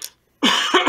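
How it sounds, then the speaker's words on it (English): A person has a coughing fit during a tabletop fantasy game session: a short cough, a brief pause, then a loud, harsh burst of close coughing. "So you have this coughing fit"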